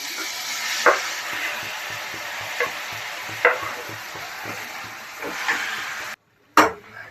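Fenugreek leaves fry in oil in a pan with a continuous soft sizzle, broken by several sharp knocks and scrapes of a spoon stirring, close and without any talking.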